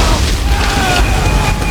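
A ship's swivel gun firing in an Assassin's Creed 3 naval battle, a steady loud booming rumble under overlapping voices and battle noise.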